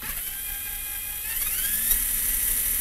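An RC4WD Miller Motorsports Rock Racer RC truck's motor under throttle gives a steady, thin high-pitched whine that rises in pitch midway and holds, close and alone.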